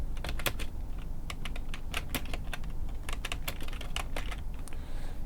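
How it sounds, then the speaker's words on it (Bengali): Fast, steady typing on a computer keyboard, close and clear, with rapid irregular key clicks running throughout and no voices. "আমরা এখানে টাইপ করতে পারি এমএস এক্সেল ফ্রি টেমপ্লেট লিখে"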